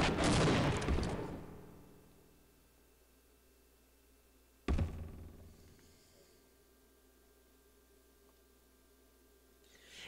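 Two heavy 40mm grenade launches from an M203 in the video game Half-Life: Opposing Force, each a loud booming blast with a long decaying tail, the second arriving a few seconds after the first, with no talk.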